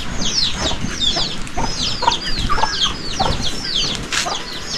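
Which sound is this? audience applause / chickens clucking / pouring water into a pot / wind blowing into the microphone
chickens clucking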